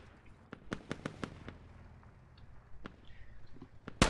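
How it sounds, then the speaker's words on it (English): Mortar shells burst close by in a military video game, a rapid cluster of sharp cracks followed by a few scattered, spaced-out blasts, with no talking over them. "Really, really close mortars."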